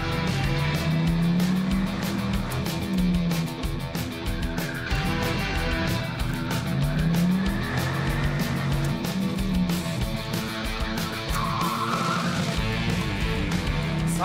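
A Dodge Viper or Chevrolet Corvette sports car drives hard with a loud, close engine note that climbs and falls through repeated revs, sustained throughout.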